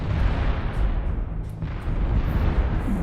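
Missile explosions in the mech combat game Mechanized Mayhem, a loud continuous barrage of booming blasts and rumbling impacts that swell and briefly dip before rising again.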